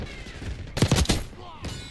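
An MP5 submachine gun fires a short, loud burst of rapid shots in Call of Duty Black Ops 6, close up, with quieter game sounds before and after.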